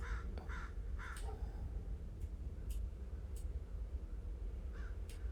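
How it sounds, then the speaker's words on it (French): A bird calls in a mixed 3D game ambience, with a few short caw-like calls and faint high ticks over a steady low rumble, no speech. "Donc, on a un oiseau juste ici qui est censé se retrouver sur cela, là."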